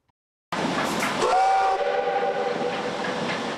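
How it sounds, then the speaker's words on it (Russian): An old steam locomotive at Voykovskaya station in Moscow moves onto a siding, its loud steam whistle sounding in sustained tones over a rumbling, hissing rail-and-steam roar that stays close and continuous. "На станции Войковская старый паровоз уходит на запасной путь"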